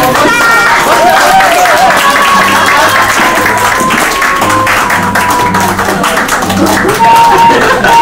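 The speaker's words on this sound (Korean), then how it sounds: "열렬한 박수 부탁드립니다." Applause from wedding guests greeting the bride walking in with her father at a small wedding, a steady wash of clapping held over music for the whole stretch, lively and fairly close.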